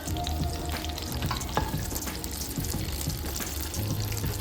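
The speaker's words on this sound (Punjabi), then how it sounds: "ਇਹਦੇ ਵਿੱਚ ਆਪਾਂ ਹੁਣ ਘਿਓ ਗਰਮ ਹੋ ਗਿਆ ਇਹਦੇ ਵਿੱਚ ਆਪਾਂ ਇਹ ਥੋੜੇ ਜਿਹੇ ਬਦਾਮ ਪਾ ਦਿੰਨੇ ਆ" Almonds frying in hot desi ghee in a pan, a dense, continuous crackling sizzle with occasional stirring scrapes, steady and close throughout.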